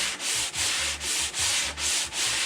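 Mahogany is sanded by hand with a flat sanding board in loud, rhythmic back-and-forth strokes, about six steady passes in close succession, with no talking.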